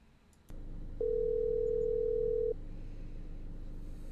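A video game telephone call plays a steady electronic dial tone for about one and a half seconds over low background hum, sounding alone and fairly loud.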